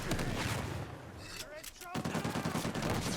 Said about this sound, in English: So let's use an RPG.